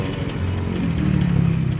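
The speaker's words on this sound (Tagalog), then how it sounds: "ibang course na yung pamamalya niya hagok dahil dito sa fuel pump" Honda Click 125 scooter engine running rough and sputtering from a clogged fuel pump, a steady close idle with uneven low hum that rises slightly toward the end.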